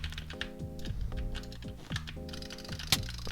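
Rapid mouse jitter clicking during Minecraft PvP, a dense run of quick, close clicks in fast bursts with brief pauses, over steady game sounds and no talk.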